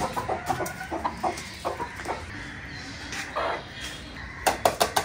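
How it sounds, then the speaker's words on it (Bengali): Chickens outside a house on a winter morning cluck and squabble in short, uneven bursts, close and fairly quiet, with a sharper cluster of squawks near the end. "এই যে এই মুরগিটা বেশি ডিস্টার্ব করে"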